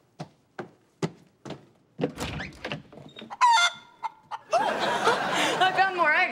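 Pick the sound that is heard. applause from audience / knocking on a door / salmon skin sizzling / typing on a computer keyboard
knocking on a door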